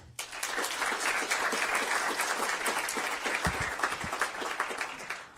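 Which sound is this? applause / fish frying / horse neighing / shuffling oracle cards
applause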